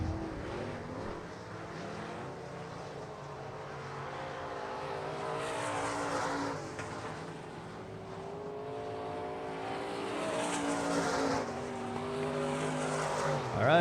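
ASCS Elite non-wing sprint cars race past the start-finish line at South Texas Race Ranch, a steady engine roar with building surges and a brief sweep of passing cars, under faint commentary.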